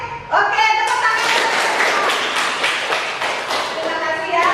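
Students in a classroom clap their hands together in a brisk, steady patter of close claps lasting several seconds, with voices mixed in over the clapping.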